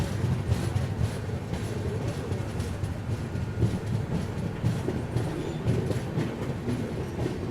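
Northeast Express train on the Delhi to Guwahati run rolls along with a continuous rumble and steady clickety-clack of wheels over rail joints, heard from inside the coach with no talk.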